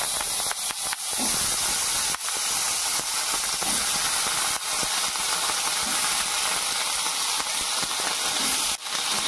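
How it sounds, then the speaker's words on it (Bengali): Green peas tipped into a hot wok (kadai) for a Bengali motorshutir daal, giving a steady, loud hiss and sizzle that runs the whole time, with a few faint clicks and no speech. "এখন মটরশুঁটিগুলি কড়াইয়ের মধ্যে দিয়ে দিতেছি।"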